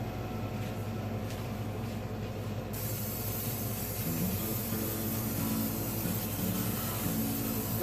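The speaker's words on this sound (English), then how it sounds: "I'm going to take and grease up the baking pan with cooking spray." Cooking spray is applied heavily to grease a baking pan, a steady, continuous hiss from the aerosol can that runs unbroken for several seconds.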